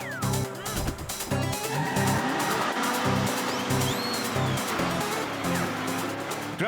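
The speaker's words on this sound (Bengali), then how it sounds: "আরে ঝটকা বড়দা, ট্রাক জোরে চালাও" A cartoon truck races along at speed, the loud vehicle noise broken by tyre squeals and skidding sounds amid busy animated effects.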